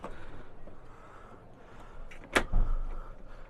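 A door on an Adria Alpina or Astella 644 DP caravan is tried and then opened: quiet fumbling and rattling at the handle, then a sharp click and a soft clunk as it gives, heard up close.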